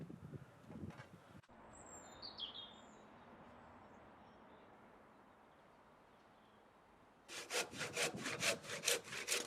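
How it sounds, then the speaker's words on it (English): A handsaw cutting away the middle of a two-pass cut in wood outdoors while building a catio, heard as close, rhythmic rasping strokes at the start and end, with birds chirping faintly in between. "I had to make this cut in 2 passes and then use the handsaw to cut away the middle"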